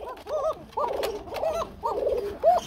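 Kuka pigeons cooing in a pigeon farm: a run of five rounded, throaty coos in steady succession, close and clear, with no voices over them.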